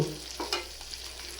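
Bay leaves and whole spices crackle in hot oil left over from frying prawns, a brief sputtering sizzle with a couple of sharper pops near the start, then steady faint frying.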